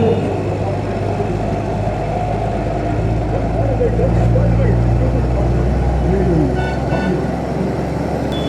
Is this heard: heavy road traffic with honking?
yes